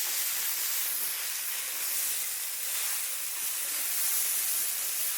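Chickpeas sizzle and hiss in a hot pan while being stirred and sautéed for ghugni, a steady loud frying hiss filling the whole stretch with no talk.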